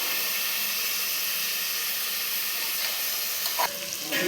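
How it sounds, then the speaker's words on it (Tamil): Onions, curry leaves and green chillies sauté in a pan for idli upma, a continuous close sizzle and hiss with light stirring near the end. "இப்போ வெங்காயம் எல்லாம் நல்லா வதங்கிடுச்சு"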